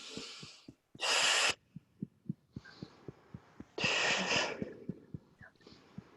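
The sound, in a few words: deep breathing exercise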